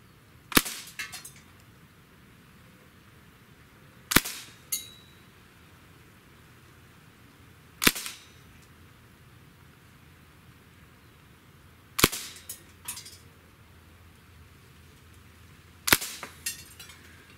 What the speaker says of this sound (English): I'm going to shoot it carbine style.